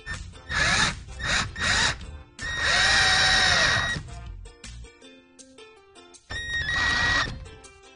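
A power drill drives a screw into clamped work in several whining bursts, the motor pitch rising and falling, loud and close, with no speech.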